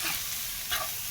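Macaroni masala is stirred in a hot pan, giving a steady sizzle with a brief scrape of the spoon near the end, close and alone.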